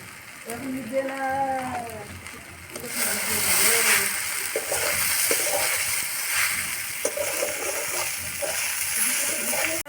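Chowmein with turmeric is stirred in a hot pan, giving a loud, steady sizzle with scraping and clinking from the utensil; a voice talks briefly before the stirring starts.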